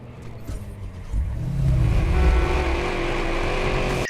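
In the video game Watch Dogs, a car engine fires up and revs, its rising whine building after a quieter start and holding steady at a moderate distance.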